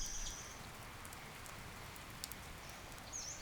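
Steady rain falls on long grass, a dense, even patter close by with no gaps, faint bird calls occasionally rising above it.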